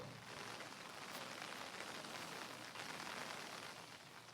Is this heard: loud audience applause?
no